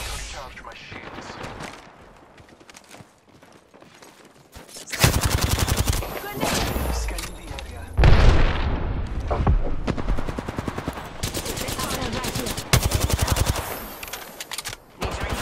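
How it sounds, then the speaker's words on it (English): Bursts of video game gunfire aimed at the player: rapid machine-gun volleys and loud repeated shots, quiet at first, then dense and sustained through most of the stretch, with brief pauses between heavy bursts. "I'm spotted, taking fire."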